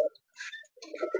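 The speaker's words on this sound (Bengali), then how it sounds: "এখানে যে আমার কবুতর আছে সব রাজশাহী গিরিবাজ কবুতর আছে" Rajshahi Giribaz pigeons cooing close by, short low throaty coos in two bursts with brief rustling and higher chirpy bird sounds mixed in, no talk.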